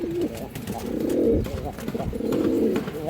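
Two low, rolling coos from a male pigeon repeat close by, each a throaty warble lasting about a second, with faint background noise between them.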